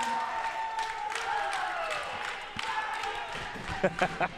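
College women's volleyball in a gym, Eastern Florida State College hosting Florida Southwestern State College: a modest crowd cheers and claps after a service ace, fairly distant and soft, with scattered shouts and a few louder bursts.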